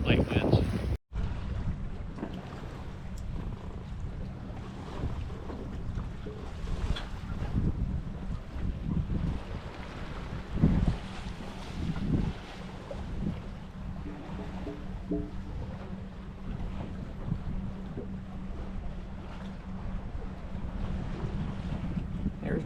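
A sailboat on a beam or broad reach in light wind near the mouth of Grand Traverse Bay makes a steady wash of water and soft wind rush, with a low hull hum underneath.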